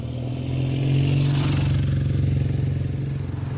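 A Triumph Rocket 3 GT motorcycle rides along, its engine producing a steady close low drone with rising revs and a pulsing throb toward the end, alone without speech.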